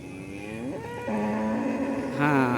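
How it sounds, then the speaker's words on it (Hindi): A cow moos loudly nearby beside the Ganga river in the late afternoon, a long drawn-out low call that rises and swells toward the end. "हाँ, ये फिर से गैया के रंभाने की आवाज़ है।"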